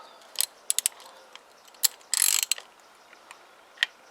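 Socket ratchet snugging down engine bolts during a top-end rebuild of a Kymco Agility 125 scooter: a run of short, sharp clicking bursts, close and fairly quiet, with one longer rattling pass in the middle and isolated clicks at the end.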